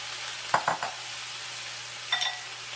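Spinach stirred into a hot pan, a few quick scrapes and shuffles of greens over a faint steady sizzle, with a brief metallic utensil clink near the end.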